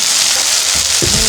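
Tomatoes stir-fry in a hot pan for a tomato, egg and udon dish, giving a loud, steady sizzle with a brief scrape or two from stirring near the end.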